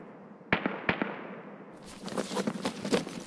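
Two sharp pops are followed by a long, crackling blast as a grenade goes off in a PVE scav raid on the Transit map of a shooter game, loud and close.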